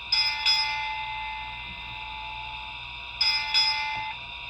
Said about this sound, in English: F1 is your bell.